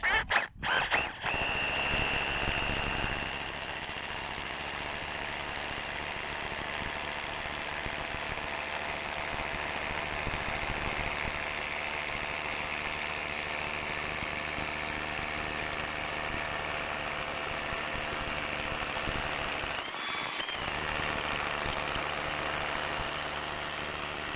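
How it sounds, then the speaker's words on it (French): An AEG BBH18C cordless rotary hammer drills a 16 mm hole into reinforced concrete, a steady loud continuous roar with a harsh burst at the start and a brief dip near the end. "Perçage à 16 dans du béton armé."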